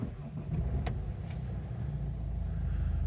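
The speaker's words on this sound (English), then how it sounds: "Just going to start the car" A 2015 BMW 125d M Sport automatic diesel engine starts and settles into a steady, low idle rumble that fills the clip, heard close from inside the car with a brief click near the start.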